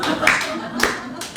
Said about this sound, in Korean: 박수를 쳐줘야 돼요